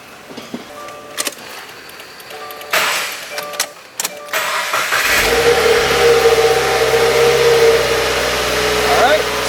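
A wrecked Subaru WRX, its wiring harness and fuse box repaired, cranks briefly after some clicks and handling noises, then fires up and settles into a steady, loud idle close by.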